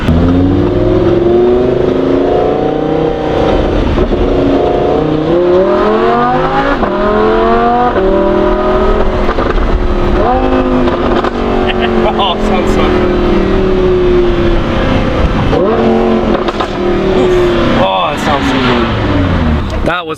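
A Lamborghini fitted with a Ryft exhaust revs repeatedly while driving, its engine note climbing and falling in loud sweeps throughout, with people talking over it.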